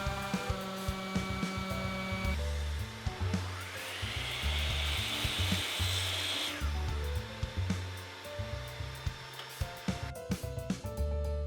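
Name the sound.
miter saw cutting wooden dowels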